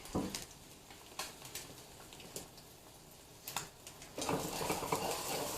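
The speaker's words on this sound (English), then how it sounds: "I'm just shaking that pan, making sure it's not sticking" Frying pan with eggs being shaken on the stove, scattered light metallic clatters and taps, then a soft sustained sizzle as the pan settles, close and fairly quiet.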